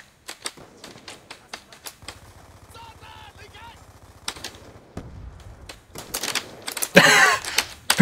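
Gunfire in Call of Duty: Black Ops II, a series of sharp shots scattered across the clip, some in quick bursts, with a louder, denser blast of fire near the end.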